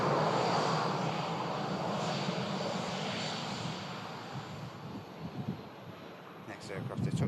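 A jet airliner arriving from Antalya roars loudly and steadily as it comes in to land, a broad rushing engine noise with wind buffeting, fading slightly toward the end.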